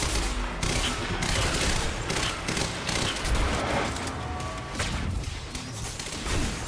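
Dense gunfire rattles through a Quantum Break firefight: rapid, loud automatic bursts and overlapping shots with crashes and thuds, continuous and close throughout.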